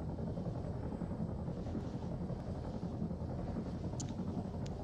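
Helicopter in the video game Altis Life, a steady low rotor drone and whooshing rumble holding constant and fairly loud throughout, with no voices.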